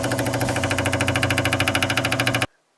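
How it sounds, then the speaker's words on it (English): A Tri-Pack electric fuel lift pump runs with a steady, rapid mechanical pulsing and buzz, loud and close, for about two and a half seconds before cutting off abruptly into silence. "The other sound you'll be listening for is the fuel pump itself."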